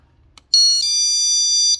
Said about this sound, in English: This right here, this is the chain lock and the alarm that I was talking about.